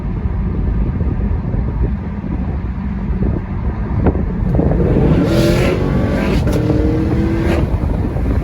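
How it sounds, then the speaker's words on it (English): A 2017 Chevrolet Camaro 2SS 50th Anniversary Edition V8 revs hard over steady wind rush while driving, the exhaust note climbing in pitch in a few bursts during the second half. "The exhaust is loud when you want it to be loud"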